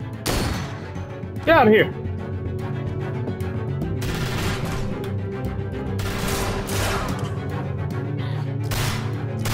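Gunfire in The Walking Dead: A New Frontier video game, with several loud sharp shots and bursts over a steady rumbling background while voices shout urgently.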